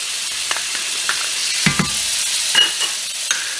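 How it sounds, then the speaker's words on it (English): Minced garlic sizzles in melted butter in a pan, a close, steady bright hiss broken by a few scraping stirs and light clicks, with no talking. "to our butter, we're gonna add a tablespoon of minced garlic"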